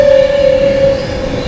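Train arriving into Birmingham International station, a loud steady tonal whine over rumbling wheels that eases off toward the end.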